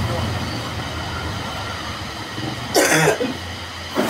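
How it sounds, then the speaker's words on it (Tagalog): A short burst of coughing cuts through a rumbling, train-like background, followed by another brief cough. "Ubo ka ng ubo."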